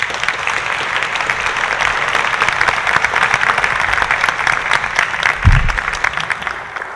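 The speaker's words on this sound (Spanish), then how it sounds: "Para todos ellos les pido un fuerte aplauso." Steady applause from an audience at a poetry event in Monterrey, a full even patter of many hands that swells slightly midway, with a low thump near the end.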